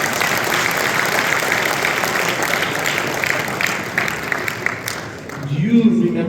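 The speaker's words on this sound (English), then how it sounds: "Guys, give a round of applause," A crowd at an evening event with a UFC lightweight champion in Chicago gives a sustained round of applause, a dense, loud wash of clapping that fades near the end as a voice begins speaking.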